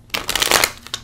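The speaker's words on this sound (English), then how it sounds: "I'm shuffling the cards." A deck of playing cards is shuffled close up for a game of war, giving a quick burst of riffling flutters that rise, continue for about half a second, and end with a short final snap.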